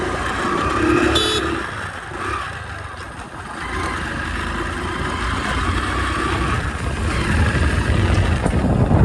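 A motorcycle engine drones steadily during a ride on the rider's own bike, loud and close with wind rush, the revs dipping and rising, and traffic noise around it.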